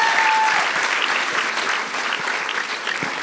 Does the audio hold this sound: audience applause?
yes